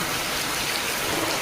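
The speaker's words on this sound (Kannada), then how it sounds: "ಮಳೆ ಬೀಳ್ತಾ ಇದೆ." Steady rain falling at a village home, a dense, even hiss of drops pattering on surfaces, continuous and fairly close with no voices.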